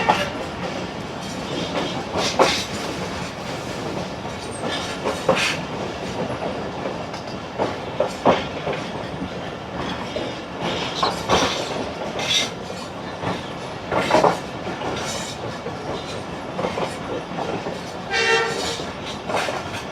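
A Sialkot Express passenger train, the 171 Up, rolls into a station platform, with steady rumbling and clattering of railway cars, squealing wheels and intermittent horn blasts, loud and close throughout.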